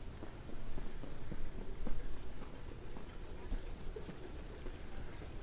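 Harness racing horses at a county fair track clip-clop in a steady, faint patter of hoofbeats over outdoor background noise, with no talk.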